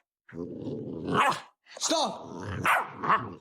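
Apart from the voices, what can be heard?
dog barking and growling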